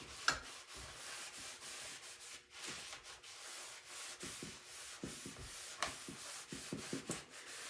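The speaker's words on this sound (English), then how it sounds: "Let's get our buffing cloth here. Shine that up a little bit." A soft cloth buffing a reclaimed wooden drawer front, giving a faint, close, continuous rubbing with rhythmic strokes and occasional light scuffs.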